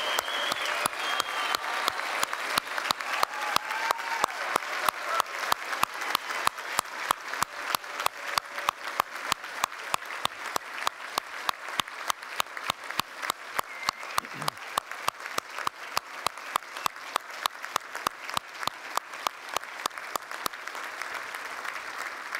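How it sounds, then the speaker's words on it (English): A large graduation ceremony audience claps for graduates, steady sustained applause mixed with a strong, evenly spaced rhythmic clapping, continuous and full for over twenty seconds with no talk. "please give our graduates a very loud and hearty round of applause"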